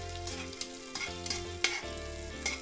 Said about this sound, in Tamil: அதுக்கப்புறம் அதை கொஞ்சம் வதக்குங்க.